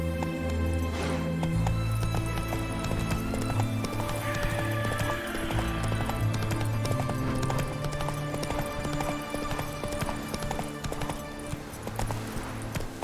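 Roach the horse gallops in The Witcher 3: Wild Hunt with a steady, continuous clip-clop of hooves and a brief whinny, set against sustained game music.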